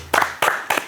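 Three short bursts of hand clapping from one or a few people, evenly spaced and fairly close, brief and alone with no talk over them.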